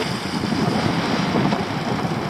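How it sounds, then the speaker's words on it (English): Strong wind buffets a small fishing boat at sea, a loud, steady roaring rush across the microphone that lasts throughout, with no talking. "This wind is just too annoying, it's getting stronger all the time."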